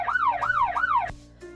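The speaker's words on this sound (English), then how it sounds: "P for a police car. Woo! Woo! My police car is chasing the baddies." A police car siren wails in rapid rising and falling sweeps, three cycles in quick succession. It then cuts off abruptly, leaving a short steady tone.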